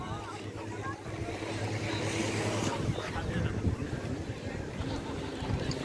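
A boat's engine drones steadily in the harbour cove at Cabo Roig marina, a continuous low rumble mixed with wind noise on the microphone, fairly close and without a clear peak.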